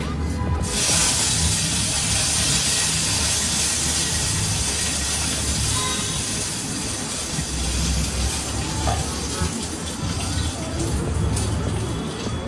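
Curry leaves dropped into hot oil for a pot of sambar give a loud, steady spitting hiss that fills the whole stretch without letup, close and continuous.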